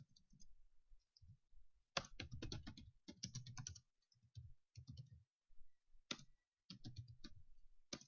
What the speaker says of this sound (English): If I could type it, that would be good.